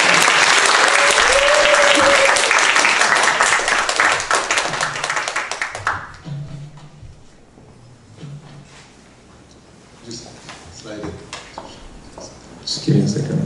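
Loud, dense applause from a large church congregation at a summer retreat session for about six seconds, then fading into quiet room noise and shuffling.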